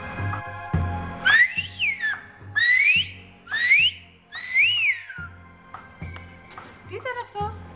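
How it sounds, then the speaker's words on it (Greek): A person whistles in a Greek TV sitcom scene set between neighbours in the evening: four loud, close rising-and-falling whistles in quick succession, with voices and room noise before and after. "Σφύριγμα."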